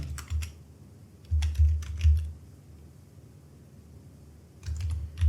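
Someone types a prompt on a computer keyboard in short, close bursts of rapid key clicks, with quiet pauses between the runs of keystrokes.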